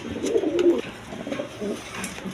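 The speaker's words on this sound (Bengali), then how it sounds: "এখানে এক পেয়ার কিরিমবার বিউটি কবুতর আছে দেখেন কোয়ালিটি সম্পন্ন কবুতর" A pair of satin pigeons, male and female, coo in soft, low, throaty phrases close by, with a few repeated calls and quiet background noise and no talking.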